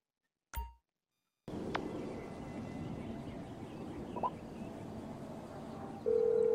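A phone call being placed in the video game GTA V: a short tone after a brief silence, then a quiet ambient hum with faint electronic blips, ending in a steady ringing tone.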